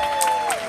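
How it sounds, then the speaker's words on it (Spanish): Brief burst of audience applause at a school Christmas event, a steady wash of clapping with a faint tone running through it. "Vamos a ver, aplaudan."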